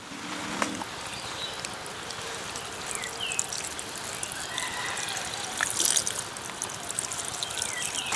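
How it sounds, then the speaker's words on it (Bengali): Running water trickles and splashes steadily while cut jackfruit is rinsed by hand in a kitchen, close and moderate with small clinks and no talk. "এবার ভালো করে ধুয়ে নেব।"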